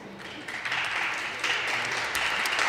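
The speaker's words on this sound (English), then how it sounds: "Let's have a round of applause." Steady applause from an audience at a Queen's Park event, filling the whole stretch with a continuous wash of clapping.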